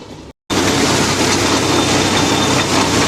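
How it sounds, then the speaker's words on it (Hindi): A tractor engine runs loud and steady while puddling a muddy, flooded paddy field in a rural village, a dense continuous roar after a brief cut at the start. "ट्रैक्टर पर चढ़ि कऽ अहाँ सबके हम देखबै छी कादो केना होइ छै असली तरीका से।"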